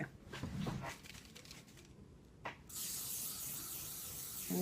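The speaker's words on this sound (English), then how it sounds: "I'm gonna spray overall" Hairspray hisses from an aerosol can in a long continuous burst over freshly styled hair, close and bright, after a few quieter handling sounds.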